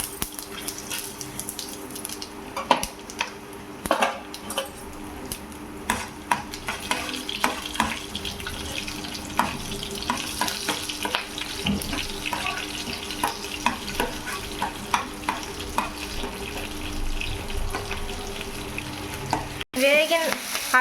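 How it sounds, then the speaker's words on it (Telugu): Spices and slit green chillies fry in oil in a kadai for carrot and coconut rice, crackling and sizzling steadily with frequent stirring scrapes, close and moderately quiet, ending with a brief clatter. "తర్వాత తాలింపులు వేసుకోవాలి."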